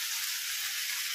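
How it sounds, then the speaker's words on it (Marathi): Chopped tomatoes sauté in a pan with a continuous bright sizzle, steady and close, with no talking. "तर टोमॅटोला असं छान असं परतून घेणार आहोत."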